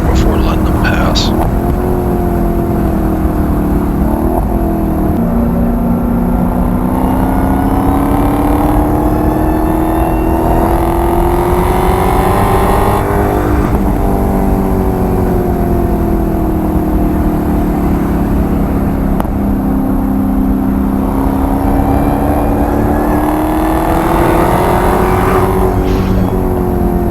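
Sustained engine roar with rising and falling pitch as a car laps a racetrack alongside a Shelby and a white Porsche, loud and continuous from inside the car, with faint talk underneath.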